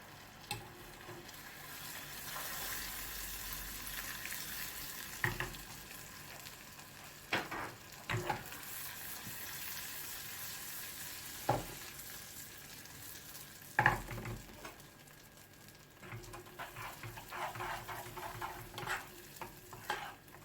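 Butter added to hot caramelized sugar for trileçe sizzles in a steady hiss, with occasional sharp clinks and scrapes of stirring over about twenty seconds.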